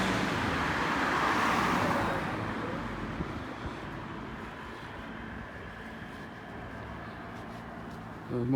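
Local buses on a road in Upper Norwood rumble past, a broad engine and traffic roar swelling early then easing into a steady roadway hum outdoors.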